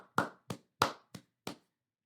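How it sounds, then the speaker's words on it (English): Five sharp, close hand claps ring out in an uneven rhythm, each a crisp isolated smack with a short decay, then silence. "We're going to clap it up"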